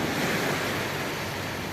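Sea waves wash up onto Kilakarai beach in a steady, loud surf roar with wind buffeting the microphone throughout, and no voices can be heard.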